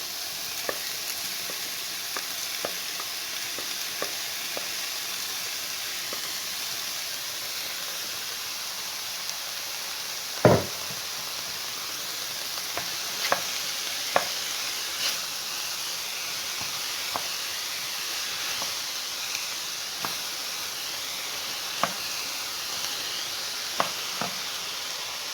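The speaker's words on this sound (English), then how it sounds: "we're going to add a bit of cooking bacon into the onions and mushrooms now, and we'll get that fried off together." Cooking bacon frying together with onions and mushrooms in a pan, a continuous soft sizzle and hiss with scattered pops and one sharp clack partway through, no talking.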